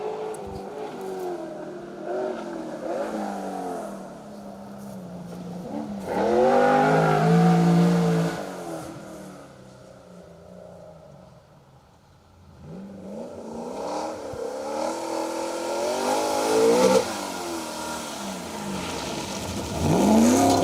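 A Triumph TR7 V8 rally car engine roars and revs hard on a forest rally stage, rising and falling in pitch as it accelerates, backs off briefly, then surges loudly again with gear changes.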